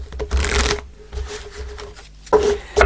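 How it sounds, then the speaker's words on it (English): A deck of angel answer cards is shuffled and one card drawn ahead of a tarot reading: two bursts of brisk papery riffling, a softer rustle between them, then a final quick snap of cards, close and fairly loud, no talking. "I'm going to pull an angel card, an angel answer card, before we get into the tarot cards"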